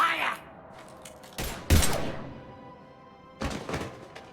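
Gunfire in the sci-fi shooter Mass Effect 3 hits as a few heavy, punchy blasts and thuds spread across several seconds, with quieter gaps between them and a brief voice at the start.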